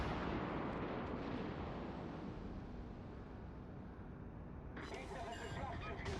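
A heavy battleship gun salvo booms at the start in World of Warships and rumbles down over several seconds, with a sharper crackling burst near the end and a voice faintly underneath.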